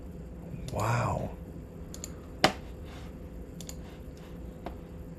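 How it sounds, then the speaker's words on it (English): Computer mouse clicks come through on a desk microphone with noise cancellation turned off: one sharp, close click and a few fainter ticks after a brief murmured voice. "Oh, you can hear the mouse clicks and everything."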